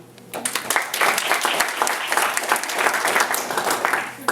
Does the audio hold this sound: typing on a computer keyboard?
no